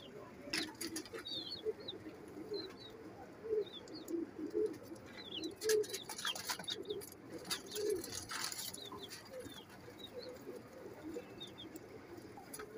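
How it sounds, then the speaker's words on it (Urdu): Teddy pigeons coo repeatedly in low, soft bursts alongside scattered chirps from other birds, a steady outdoor murmur with no talking. "یہ سلارے ٹیڈی کبوتر ہیں،"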